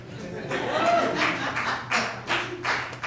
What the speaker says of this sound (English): There was like 4 people applauding in the back.